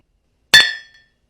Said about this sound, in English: They take 2 real glasses and record the sound